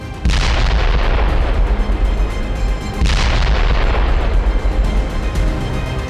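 Heavy explosions from a French Hammer guided bomb strike on a Russian command post, two loud close booms a few seconds apart, each followed by sustained rumbling and crackling blast noise.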